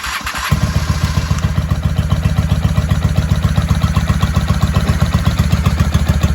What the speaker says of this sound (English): Now that we have spark, she fired right off.